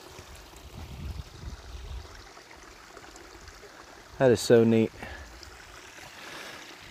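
Water runs steadily through a beaver dam along a trail between Williamstown, Massachusetts, and Bennington, Vermont, a soft constant trickle and rush heard up close, briefly interrupted by a person speaking.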